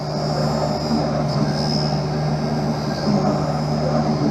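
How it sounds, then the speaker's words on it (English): Lens edging machine grinding a V-shaped bevel onto an eyeglass lens for Ray-Ban 5228 frames, a steady loud mechanical drone with a low hum and faint high whine, continuous throughout. "It's now going to drop down onto the bevel wheel to get the knife-like edge, the V-shaped bevel."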